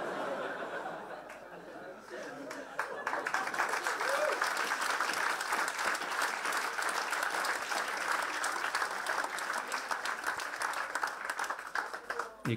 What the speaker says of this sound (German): Ihr klatscht für ein totes Reh